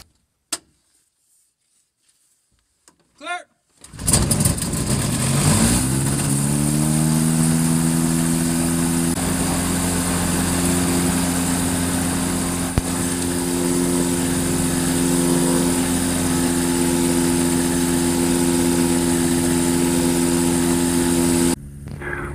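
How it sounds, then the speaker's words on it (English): A light aircraft engine with a three-blade propeller starts up after a few faint clicks, then runs at a steady, loud drone close by for the rest of the clip. "Let's make the engine make some noise and go flying."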